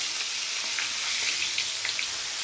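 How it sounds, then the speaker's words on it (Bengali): Prawns fry in a pan for chingri malai curry with a steady, hissing sizzle throughout, broken by a few soft scrapes and taps as they are turned over. "একটু উল্টে পাল্টে ভেজে নেব।"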